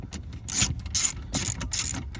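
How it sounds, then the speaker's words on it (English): Screws being backed out of Ford Taurus dashboard trim around the radio, heard as several short ratcheting, clicking bursts of a driver turning, close and fairly quiet, with no talking. "disassembling this area by taking these two screws out"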